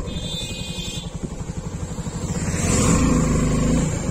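A Suzuki V-Strom 250 motorcycle at speed, engine pulsing with rhythmic throbbing then building into a loud, sustained roar with strong wind noise, heard from the rider's position.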